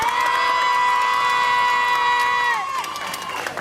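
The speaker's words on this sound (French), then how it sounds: "je vous demande de faire un tonnerre d'applaudissements" Concert crowd in Cabourg cheers for the singer and his musicians, a loud sustained roar topped by long high-pitched whoops that hold steady, then break off and fade into scattered shouts.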